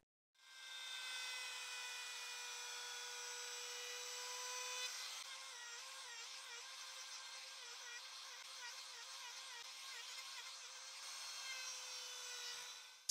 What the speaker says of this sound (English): router, using this 32 millimeter straight edge bit, it cuts at 45 degrees